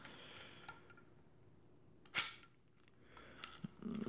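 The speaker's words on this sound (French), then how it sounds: "On arme l'appareil et on déclenche." A single crisp shutter release on a Perfex Fifty Five camera with a Wollensak Velostigmat 50mm lens, set at 1/1250, one sharp close click standing out in a quiet room, framed by faint handling and winding sounds.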